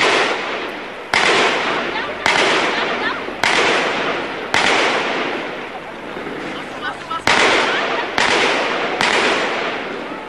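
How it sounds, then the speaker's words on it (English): A string of loud, sharp gunshots near the Taj Hotel in Mumbai during a terrorist attack, roughly one a second, each with a long rolling echo that fades before the next crack. "more gunfire broke out close to the Taj Hotel"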